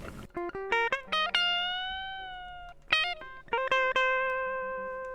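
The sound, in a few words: electric guitar without effects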